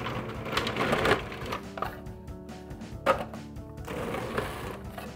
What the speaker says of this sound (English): I am going to use my food processor to do this,